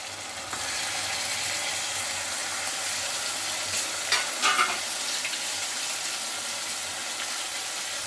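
Chicken dropped into a pan of frying tomato mixture in oil for a chicken curry, giving a loud, steady, close sizzle with a brief clatter midway and no talk.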